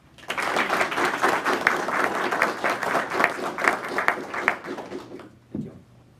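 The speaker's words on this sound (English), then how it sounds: "A quick round of applause." A crowd at an Army occupational therapy graduation ceremony gives a short, dense round of applause that swells quickly, holds for several seconds, then tapers off with a few last claps.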